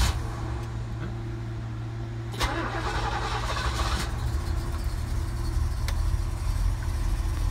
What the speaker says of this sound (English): let's start the Bronco up here